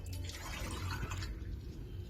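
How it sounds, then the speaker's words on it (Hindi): Water from a glass is poured into a cooking pot holding bone-in beef, giving soft splashing and dripping sounds that are fairly faint against background room noise. "3 गिलास पानी के ऐड कर देने हैं।"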